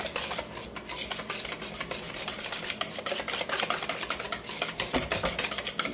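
A utensil stirs thick cauliflower wing batter in a bowl, steady rhythmic scraping strokes close up, continuous and fairly loud with no talking.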